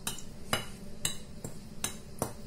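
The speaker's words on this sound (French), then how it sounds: "Je mélange tout ça avec ma cuillère." A spoon clinks against a bowl in a steady rhythm, six sharp taps about half a second apart, as vanilla sugar and dry ingredients are stirred by hand, close and fairly quiet.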